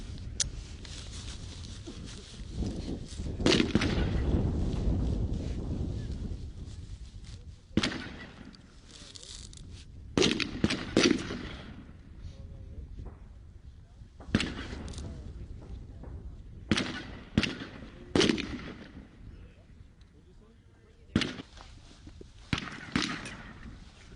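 Gunshots crack along a shooting range firing line, sharp loud reports spaced irregularly with several close-together bursts, echoing over outdoor background noise and occasional voices.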